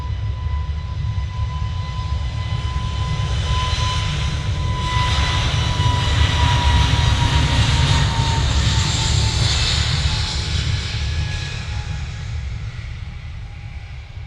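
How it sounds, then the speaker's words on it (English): A Singapore Airlines Airbus A350 taxis at Manchester Airport, its engines a sustained loud whine and rumble with a thin steady tone on top, building gradually then easing off over about fourteen seconds. "We've got the Singapore A350, that's just taxiing on its way over."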